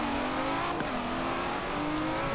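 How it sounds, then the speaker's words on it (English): A large V12 engine fitted in an Aston Martin Vantage in Forza Horizon 4 drones steadily at high revs, with pitch shifting briefly as it is worked, loud and continuous with no talk. "they put the large V12 engine in this Vantage, which obviously was never originally meant for this engine"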